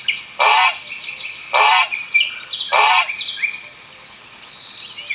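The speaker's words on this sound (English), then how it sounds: "A goose." Three loud, harsh goose honks at an even pace, with softer bird chatter in the background between calls.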